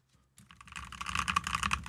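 Computer keyboard typing picked up by a shotgun condenser microphone, a fast run of close, crisp key clicks that starts after a brief quiet moment and grows busier and louder, with no talking.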